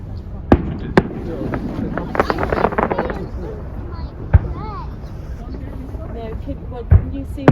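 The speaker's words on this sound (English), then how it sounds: "Back to fireworks Okay. on their departure." Fireworks pop and crack in sharp, scattered bursts, some distant, some near, as the cruise ships Queen Victoria and Queen Mary 2 depart Southampton, amid wind noise on the microphone and crowd murmur with people talking.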